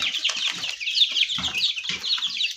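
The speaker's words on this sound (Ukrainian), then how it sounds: "Ну не одни курочки там все." Young chickens, hens and cockerels mixed together, cluck and chirp in a steady overlapping chorus, close by, with a few soft wing flutters and no talking.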